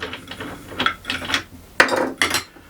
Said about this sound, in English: Take our lock nut off.